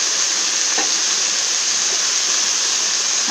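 Chilies, ginger and garlic sautéing in a pan for radish chutney, giving a steady, dense frying sizzle that holds evenly throughout with no talk.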